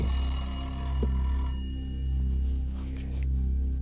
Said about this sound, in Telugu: ఒక చాలా పాత ల్యాండ్లైన్ ఫోన్ రింగ్ అవ్వడం స్టార్ట్ అవుతుంది